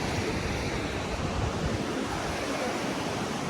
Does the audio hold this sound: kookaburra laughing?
no